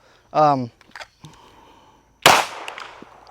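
Single sharp report from a SIG P320 X Five Legion handgun, loud and close with a short ringing tail, following a brief burst of talk.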